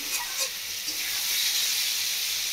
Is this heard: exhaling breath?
no